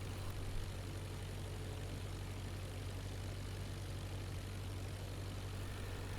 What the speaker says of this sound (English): We raise the nose to fly level and add the power to 1000 RPM.